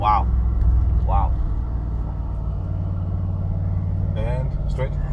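A Mercedes G63 AMG Edition 1 SUV driving in Germany gives a steady low engine rumble and road noise inside the cabin, with brief bits of talking over it.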